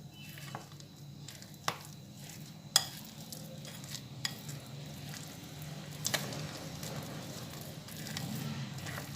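Lentil and egg batter for fritters is mixed by hand, giving a soft, continuous wet squelching and stirring with a few sharp clicks, quiet and close.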